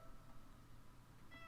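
Faint meow from a domestic cat in the background of a Broken Sword game session, a single short cry near the end over a low, steady hum.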